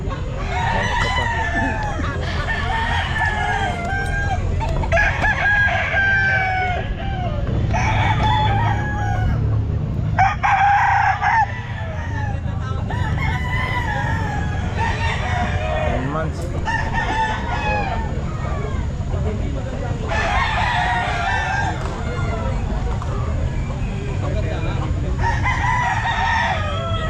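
Several roosters crow repeatedly at a busy pet market, their calls rising one after another over steady crowd murmur and a low background hum, with people talking nearby.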